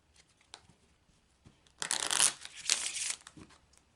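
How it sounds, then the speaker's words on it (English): A Lenormand card deck is shuffled on a table, a couple of faint taps and then a quick riffling burst lasting about two seconds, close and fairly quiet. "I'm going to take a few moments to shuffle the deck"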